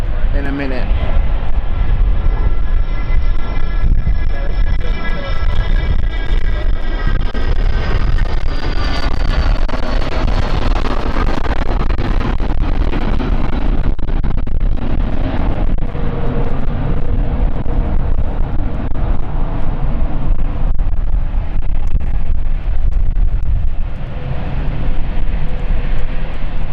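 Airliner arriving at London City Airport, a loud sustained jet roar with a descending engine whine, steady throughout with voices talking underneath.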